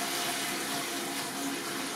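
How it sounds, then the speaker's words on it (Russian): Liquid pours steadily into the boiler of a Luxstahl home distillation still, a continuous splashing wash of water that runs unbroken for the whole two seconds, moderately close and with no voices over it. "Так вот сюда все заливается."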